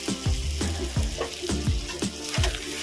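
Fried chicken muitha dumplings tossed into a sizzling spiced masala, with a bright continuous fry hiss broken by regular, rhythmic stirring strokes close to the pan.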